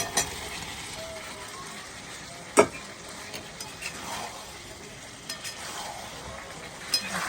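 Small potatoes and spices fry in a kadai. A steady sizzle runs throughout, broken by occasional clinks and scrapes of a stirring utensil against the pan, close and moderately loud.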